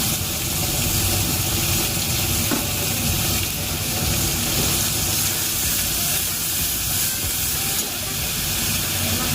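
Whole spices and onion paste fry in hot oil in a pan for a homemade mutton biryani. A steady, loud sizzle and hiss runs throughout with faint stirring scrapes.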